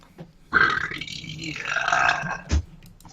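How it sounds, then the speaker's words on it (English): A loud, drawn-out burp lasting over two seconds, rough and gurgling, with a short extra grunt at its end, heard alone without talk during a Final Fantasy VI randomizer game session. "That's a fearsome burp."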